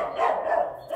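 Dogs bark at an old castle overgrown with plants: one short, close bark rings out loudly over light background noise.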